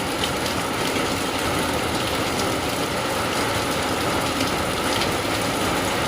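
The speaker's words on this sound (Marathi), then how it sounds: "मस्त रिमझिम पाऊस लागत आहे." Light drizzling rain falling steadily in the cold Konkan countryside, a constant soft hiss of drops on surfaces with a faint low rumble beneath, even and unbroken throughout.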